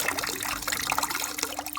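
A pump churns and swirls water inside a homemade vapor blasting cabinet, a close, busy trickling and splashing wash that runs steadily throughout.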